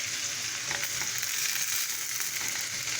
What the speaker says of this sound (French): Et on va finir par mettre un poivron pour cette première poêle.